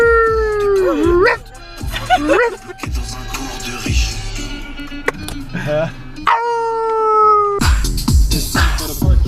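A dog howls in rising and falling drawn-out tones, loud and close, broken by short gaps and mixed with people talking over it.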